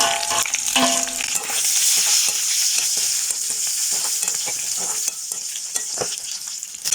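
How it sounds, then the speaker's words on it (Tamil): Round eggplant slices and onions frying in a pan while being stirred, a steady loud sizzle with repeated scraping stirs, no voices. "வட்டு கத்திரிக்காயும் போட்டு ஒரு கிளறி விடுவோம்"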